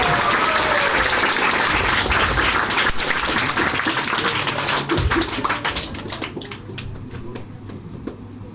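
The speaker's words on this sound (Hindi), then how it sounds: "एक बार फिर से जोरदार तालियां साकेत सर के" Loud, dense applause from a large audience at a club gathering honoring Saket sir, sustained and close for several seconds before thinning out into scattered claps toward the end.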